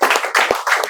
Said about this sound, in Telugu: Very good. క్లాప్.